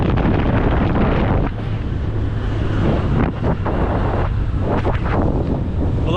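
Strong rushing wind blasts over the mic while riding pillion on a scooter through Bali, with a steady engine hum underneath and no talking.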